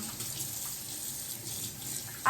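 Tap water runs steadily into a cooking pot, a continuous close splashing hiss with no voices, swelling slightly louder right at the end.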